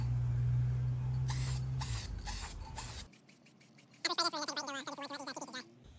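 Spray paint on a 2023 Honda Trail 125 motorcycle exhaust pipe: several short hissing bursts from an aerosol can over a low hum, followed by quieter sputtering, rattling spray sounds near the end.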